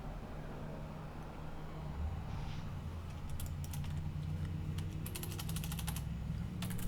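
Typing on a computer keyboard: bursts of quick, light key clicks in clusters over a low steady background hum, fairly quiet and close.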